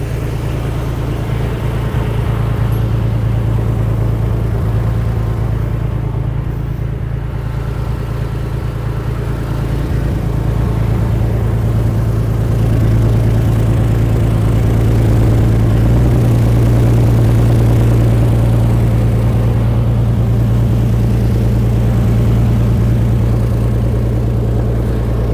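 A BMP infantry fighting vehicle's engine drones loud and close with a steady, continuous rumble, holding almost unchanged for the full twenty-five seconds.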